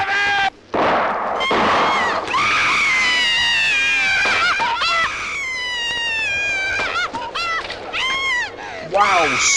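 A woman lets out a long, shrill scream that rings and echoes, overlapping with other yells and cries in a dramatic film scene, loud and close.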